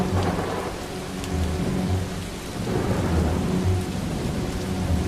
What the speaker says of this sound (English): I'm feeling awe and beauty at all the lightning happening.